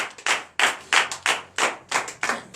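A church congregation claps together in acclamation during a night deliverance service in Benin, with about eight strong, evenly spaced rhythmic claps, close and loud with no talking.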